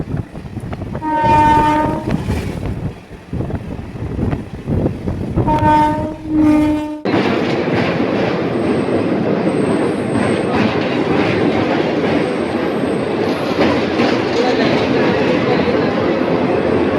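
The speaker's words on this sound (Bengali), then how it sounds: "আমাদের ট্রেন সাঁতরাগাছি দীঘা প্যাসেঞ্জার রূপনারায়ণ নদীর ওপর দিয়ে চলেছে" The Santragachi-Digha passenger train sounds its horn in two long blasts, then thunders steadily across the bridge over the Rupnarayan river, with a loud, continuous rumble and a rhythmic wheel clatter.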